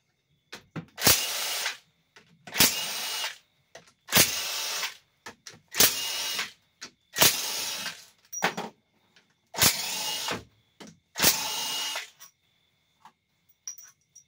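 An impact or power tool spins out transmission pump bolts on a 4L60E automatic transmission during a rebuild, giving eight loud, close bursts of whirring, each separated by a second or so of quiet.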